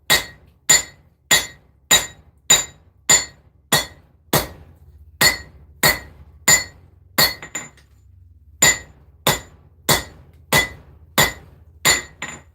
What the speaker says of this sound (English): using the cross peen again to widen out the handle